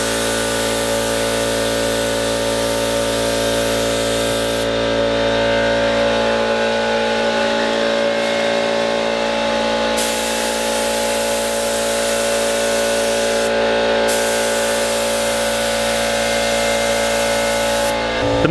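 Paint spray gun spraying paint in steady, continuous hissing passes, loud and close, with brief breaks as the trigger is released and pulled again.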